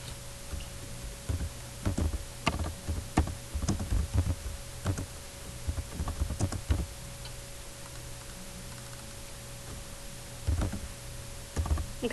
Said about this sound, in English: I'm having issues typing today.